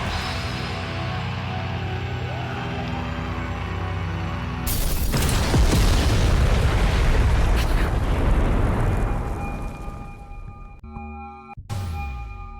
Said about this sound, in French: Il se fait tellement dézinguer par l'explosion au ralenti